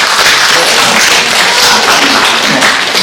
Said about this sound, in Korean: 한번 일어나서 박수 한번 주세요